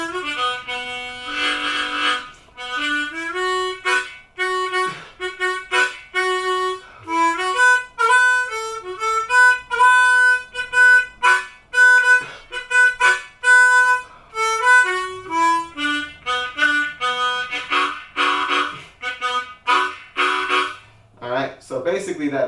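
Harmonica in third tuning playing a minor pentatonic scale, single reedy notes moving up and down, punctuated by fuller draw-chord accents, played close and clear with short pauses between phrases.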